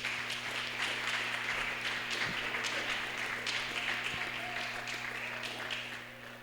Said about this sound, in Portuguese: Vamos receber o pastor Fernando com palmas para o Senhor Jesus